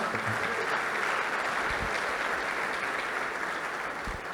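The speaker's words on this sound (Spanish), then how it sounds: "Dale un aplauso al Señor ahí donde está" A church congregation claps for the Lord during a sermon, giving a steady, continuous roar of applause that fills the room at even loudness throughout.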